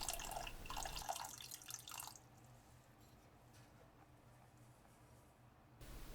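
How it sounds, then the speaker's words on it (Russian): Water pours into a thick-bottomed saucepan over sugar, a brief splashing run in the first two seconds that then drops to a quiet background hum before a short burst at the end. "Высыпаю его в кастрюлю, желательно с толстым дном, и заливаю небольшим количеством воды."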